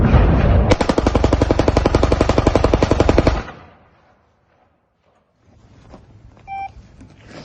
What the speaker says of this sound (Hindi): यूक्रेन की मिलिट्री से ग्राउंड पर मैदान जंग में लड़ती हुई और फायरिंग करती हुई